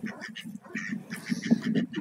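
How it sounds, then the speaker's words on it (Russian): Mallard drakes quack in a soft, rapid back-and-forth chatter, low raspy calls repeating close by, in a park in spring. "Это селезни разговаривают."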